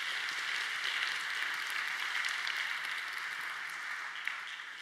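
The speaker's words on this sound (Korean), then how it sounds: "우리 사랑의 마음을 담아서 격려와 사랑의 박수를 또 보내도록 하겠습니다" A church congregation at a Korean worship service claps for the mentors, a soft, distant, continuous patter of applause with no speech on top.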